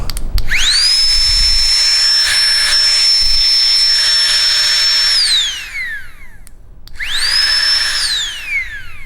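A small Flextail electric air pump inflates a sleeping pad, whining loudly and steadily for about five seconds, spinning down, then starting up again for a shorter burst.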